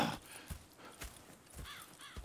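Horses in the video game Red Dead Redemption, with a few soft hoof clip-clops and snorts close by amid quiet outdoor game ambience.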